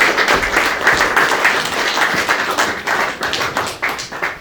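An audience at an evening event celebrating Haitian cocoa breaks into applause, dense overlapping clapping that stays loud and steady throughout.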